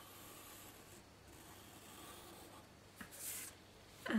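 A pencil faintly scratches across paper while tracing a doll shoe sole pattern, a quiet steady rubbing with a couple of small knocks near the end.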